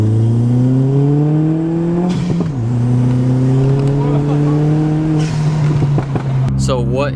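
A VW Golf MK4 on coilovers accelerates while driving, its engine note rising steadily through two gear changes, loud and close from inside the car, with a short squeaky sound near the end.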